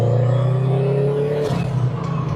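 A 400 hp car engine revs loud and close, holding a steady low drone that climbs in pitch before easing into a rougher, fluctuating growl.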